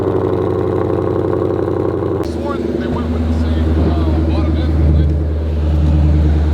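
A Ford GT500 cross-plane crank V8 rumbles steadily during a test drive, a deep throbbing engine drone from inside the car with road noise, while people talk over it.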